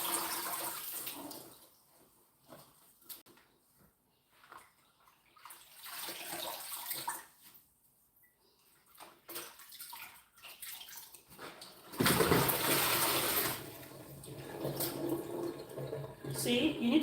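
Ugu leaves being washed by hand in water, on-and-off sloshing and splashing that grows into a louder burst of churning water near the end, with someone talking intermittently.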